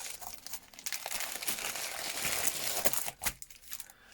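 Padded envelope being opened to unpack a 30x30 diamond painting kit with a magnetic frame: steady close crinkling and crumpling of paper and plastic with sharp tearing bursts, no talking.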